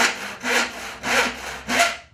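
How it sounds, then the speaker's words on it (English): A handsaw cuts a starter groove into pallet wood, four close rasping strokes in a steady back-and-forth rhythm, loud and alone with no talking. "what I do is I just put a groove in this with that handsaw just at the top"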